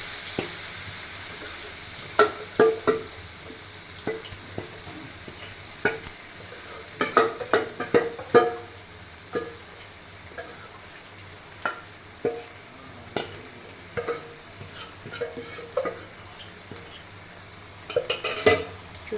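Pieces of roti dough frying in hot oil in a pan, a soft sizzle with scattered stirring and utensil clinks against the pan, steady and close, no talking.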